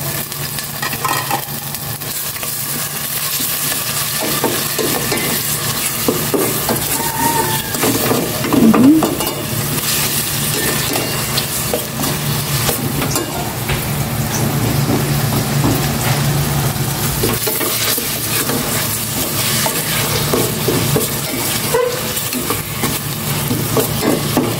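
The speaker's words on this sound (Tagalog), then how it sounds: "Gisa ko na to pork." Pork sautéing in a pan for pancit canton: a loud, steady sizzle and frying hiss close up, with scraping stirs throughout and no talking.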